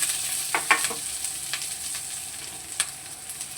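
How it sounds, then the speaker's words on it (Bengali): Onion and green chillies stir-frying in a little oil give a soft, steady sizzle, broken by a few sharp scrapes and knocks of a spatula stirring the pan. "পেঁয়াজটা এই অল্প তেলে দিয়েই মানে নাড়াচাড়া করে নেব"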